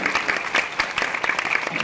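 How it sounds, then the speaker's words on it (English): An auditorium audience at the Megaplex 2021 convention closing ceremony applauds, a dense, lively patter of many hands clapping steadily for a couple of seconds, fairly loud and close. "Everybody, big round of applause for Hex."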